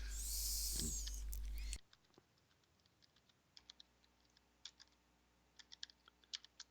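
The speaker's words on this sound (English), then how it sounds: "okay, so I'm typing it in right now." Someone types on a computer keyboard, producing sparse, faint key clicks in uneven bursts. The clicks follow a loud burst of noise at the start.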